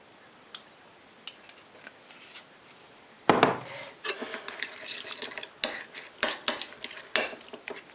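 Utensil stirring and scraping tartar sauce with relish and hot sauce in a bowl, a quiet start giving way to a loud clatter and then repeated close clicks and scrapes against the bowl.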